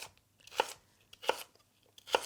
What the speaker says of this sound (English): I want to cut the celery on an angle